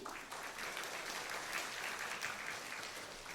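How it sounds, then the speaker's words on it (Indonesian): Audience at a Soka Gakkai Indonesia Gosho lecture gathering clapping after a talk, a continuous, fairly quiet and slightly distant wash of many hands that holds steady throughout. "Mari kita beri tepuk tangan sekali lagi."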